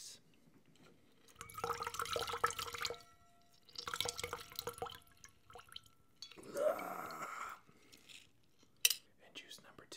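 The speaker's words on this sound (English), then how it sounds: "Let's juice." Fresh citrus squeezed by hand for a margarita, with close, quiet squelching and dripping juice in three separate bursts and soft pauses between them.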